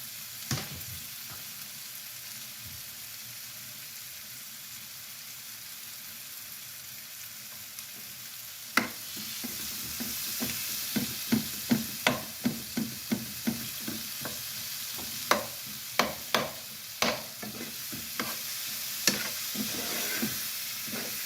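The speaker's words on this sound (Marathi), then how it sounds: "आता हे बघा, ह्याला मस्त असं सॉटे करून घ्यायचं" Masala for a black-eyed pea curry sautés in a hot pan, a steady sizzle and hiss that turns into repeated scraping stir strokes partway through, close and moderately loud.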